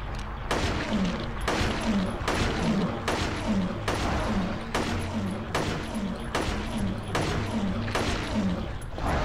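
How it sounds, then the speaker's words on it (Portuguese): Gunfire rings out in the video game Silent Hill 3, around a dozen sharp, loud shots spaced at a fairly regular pace, each followed by a brief mechanical clack over a low droning game backdrop. "Mano, eu te dei 10 tiros"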